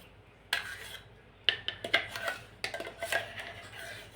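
Rice paste for papad scraped out of a mixer jar into a vessel: a series of scraping and clinking strokes of a spoon against metal, separated by short pauses, close and fairly quiet.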